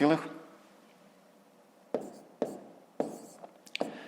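A pen writing out a subtraction problem on paper, several short close scratching strokes after a brief opening bit of speech.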